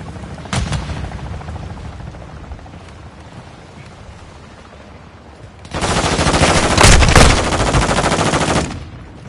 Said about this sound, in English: Oh, they're shooting at each other.